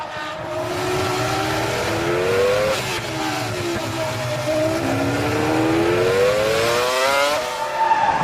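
Formula 1 cars from the 2004 season race wheel to wheel as Alonso passes Coulthard's McLaren, with high engines whining and sweeping up and down in pitch, loud and close, under faint commentary.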